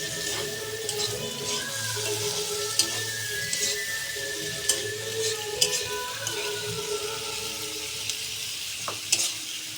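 Ginger sizzles steadily in a hot pan for a Bengali chicken curry, with spatula stirring scrapes and a few sharp clinks over the continuous frying hiss, close up and without talk.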